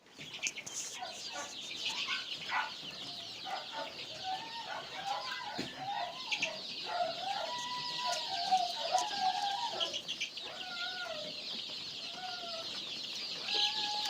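Chickens cluck steadily on a farm where the birds are being kept after a Gumboro disease outbreak, the calls rising and falling over a continuous high-pitched chatter from many birds close by.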